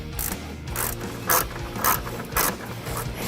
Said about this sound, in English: you're going to loosen the bolts that are securing the stock airbox down to the vehicle